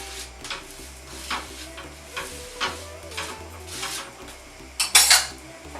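An aloo paratha is flipped in a pan, with light metallic scrapes and clinks of a utensil over soft sizzling, ending in a sharper clatter, and no talking.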